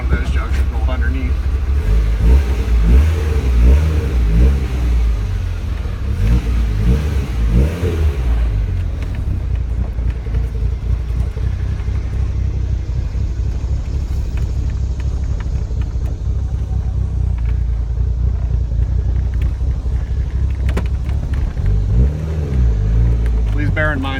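Callaway Rabbit car engine, fitted with methanol injection, revs and drones while driving, loud and close inside the cabin, rising and falling with the throttle, with someone talking over it throughout.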